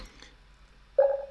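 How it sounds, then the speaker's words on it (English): TikTok Live Studio follow alert notification: a short, bright electronic tone that sounds suddenly after a near-silent pause and holds steadily to the end. "This is the follow notification"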